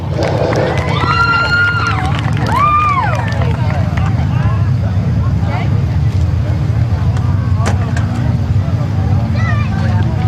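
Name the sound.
crowd applause and cheering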